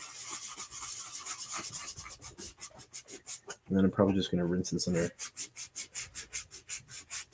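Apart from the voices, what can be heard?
sanding a plastic container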